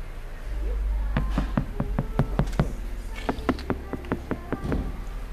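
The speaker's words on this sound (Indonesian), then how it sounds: "Kita ketok dulu." Series of sharp knocks on the door of a Honda CR-V fitted with full sound-deadening material, tapped in quick irregular bursts close by, with a low background hum and no talk.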